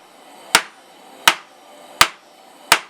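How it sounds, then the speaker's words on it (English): Hammer blows on hot steel forging the taper of a center punch, four sharp, loud metallic strikes at an even rhythm with short ringing decays and quiet gaps between. "So we're going to just keep on hitting it, bring down that taper,"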